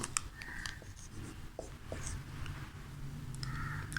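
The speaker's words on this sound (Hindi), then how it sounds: "फॉर एग्जांपल मैं यहाँ पे लिखता हूँ" Pen or chalk writing out an example sentence, a few short scratchy strokes close by, with quiet room tone between them.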